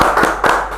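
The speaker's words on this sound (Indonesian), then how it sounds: "Tepuk tangan untuk Mr. Puisi" Brief burst of clapping from a small group greeting a guest on an Indonesian talk show, a few sharp hand claps close up with no talking.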